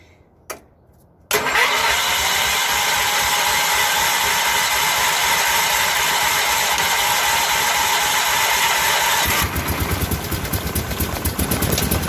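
A 1981 Case 210 garden tractor engine cranks briefly after a faint click, then catches and runs steadily loud and close, settling into an uneven idle near the end.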